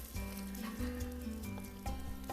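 Pancakes sizzling on a hot preheated griddle, giving a steady, quiet frying hiss with soft crackles and a few light scraping taps as they are moved around.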